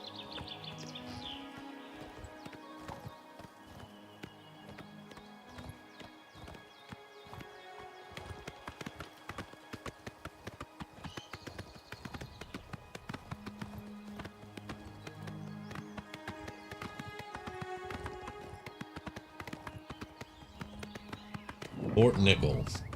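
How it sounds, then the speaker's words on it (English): Horse hooves clip-clop at a steady, even gallop while riding in the video game Oblivion Remastered, with a dense run of close hoofbeats layered over game music. "can you turn the horse around there"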